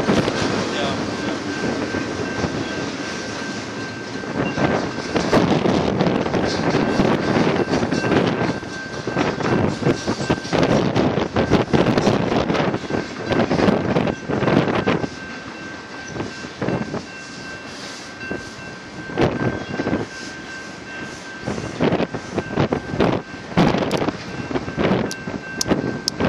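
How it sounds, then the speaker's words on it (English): A long Union Pacific autorack freight train rumbles past at close range on Sherman Hill, Wyoming, with steady broadband roar, rail clatter and wind buffeting the microphone throughout, with a faint voice at times. "this is a long train going"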